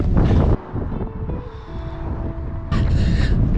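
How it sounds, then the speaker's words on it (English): Strong wind buffets the microphone in loud rumbling gusts in Liverpool, easing briefly in the middle before roaring back, with no one speaking. "It is so windy."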